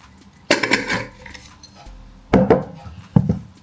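A spoon stirs a spicy okpa mixture of bambara nut flour and dry pepper in a pot, making three separate bursts of clanking and scraping against the metal with quiet gaps between them.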